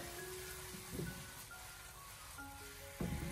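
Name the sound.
stir-frying cucumber and pork slices in a wok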